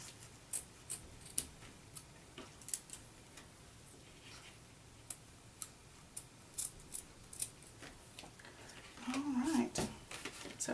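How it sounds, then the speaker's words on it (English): Scissors snip the long ends of craft material for a Halloween candy pouch, a string of sharp, close clicks spaced irregularly across a quiet room, with a faint voice murmuring near the end. "I'm going to cut these ends a little bit shorter since they're so long"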